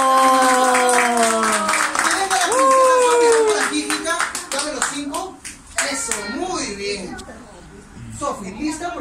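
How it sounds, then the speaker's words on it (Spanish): At a child's birthday party, children shout and cheer loudly in high, sustained voices while hands clap rapidly. The cheering breaks into excited chatter as the close, energetic clapping continues underneath. "Vamos a recibir con fuertes aplausos a mi amiguita ¡Sofi!"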